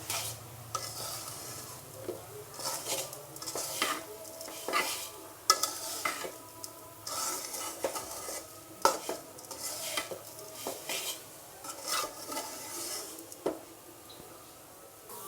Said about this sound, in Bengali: সুন্দর করে নেড়ে নিতে হবে